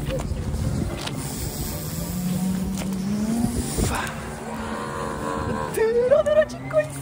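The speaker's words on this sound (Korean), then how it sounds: "한번 드론 날려볼게요." A small camera drone spins up and lifts off at a campsite in Japan. Its motor whine rises steadily in pitch, fades, then returns with a sharper climbing tone, heard up close with background noise throughout.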